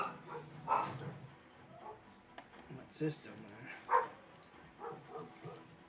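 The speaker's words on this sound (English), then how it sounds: "Oh, those dogs." Dogs barking and yipping in a home, several short barks scattered through a few seconds amid people talking nearby.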